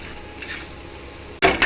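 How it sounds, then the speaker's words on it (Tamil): A pan of kothu parotta with salna is stirred over heat with a soft sizzle, followed at the end by two sharp, loud metallic scrapes and clacks of the spatula against the pan. "சால்னா கொஞ்சம் ஊற்றி நல்லா கிண்டிக்கோங்க."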